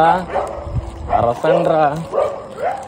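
Dogs bark and yelp in short bursts at close range beside a road near Kavali, on a walk from Vijayawada to Chennai, mixed with a voice speaking.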